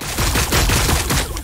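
Dense, continuous gunfire and overlapping volleys from a Warhammer 40k Battlesector battle, loud and sustained with rapid bursts throughout and no talking.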